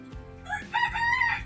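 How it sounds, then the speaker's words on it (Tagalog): A single rooster crow rings out close and loud, a bright, wavering call lasting over a second. "Ayun, manok pa."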